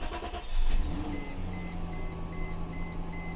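A car that has sat unused for a while is started up, a low engine rumble settling into a steady idle, while faint repeating electronic beeps chime in the background.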